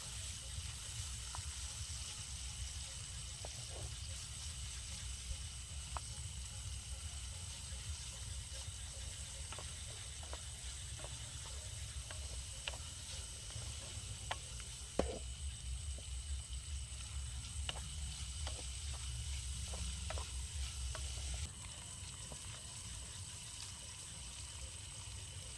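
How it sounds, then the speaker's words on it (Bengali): Onion sizzling in oil in a pan on a camp stove during a group camping trip, a faint, steady frying hiss with small crackles and light clinks, while people talk quietly nearby. "তেলটা একটু গরম না হতেই পেঁয়াজটা দিয়ে ফেলেছে"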